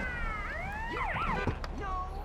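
Several overlapping police sirens in the video game GTA Vice City wail and sweep up and down, fairly loud, mixed with engine noise and a brief thump.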